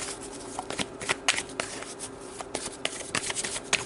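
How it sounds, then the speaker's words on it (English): Tarot cards are shuffled by hand in quick riffling bursts, close and fairly quiet, with soft snaps and flutters repeating over a few seconds. "let's get these nice and shuffled for you"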